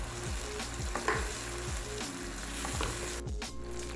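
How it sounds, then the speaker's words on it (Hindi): Ground tomato puree and ginger-garlic paste fry in a pan for an egg curry, a continuous close sizzle broken by rhythmic scraping strokes of a spatula stirring the thick mixture, with no voices. "इसको भी 2-3 मिनट के लिए अच्छी तरह भून लेना है"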